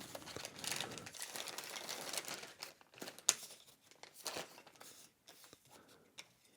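A plastic bag is handled while game tokens for the Dune: Imperium board game are bagged up, giving soft, close crinkling and rustling in uneven bursts with scattered sharper crackles and quieter pauses.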